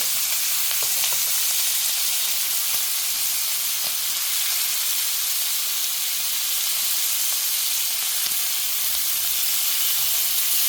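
Lamb chops fry in a pan with a loud, constant hissing sizzle that barely varies, with a few faint clicks and low thumps underneath.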